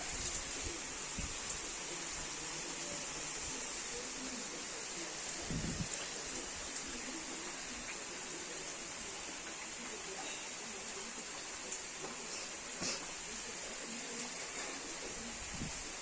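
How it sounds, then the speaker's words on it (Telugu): A light rain shower falls outdoors as a faint, continuous hiss, broken by a few soft knocks and taps, with no voices. "జల్లు అయితే వర్షం పడుతుంది ఇటు పక్కకి"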